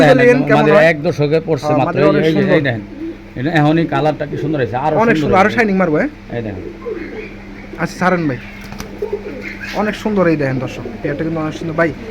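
Pigeons of a fancy breed being shown for sale coo intermittently in the background, nearly masked by someone talking continuously over them at close range.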